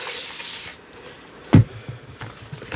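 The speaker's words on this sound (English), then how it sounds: "I am going to spray this one a little bit" A spray bottle mists water onto a gel print in a short hissing burst at the start, followed by quieter rustling and one sharp knock partway through.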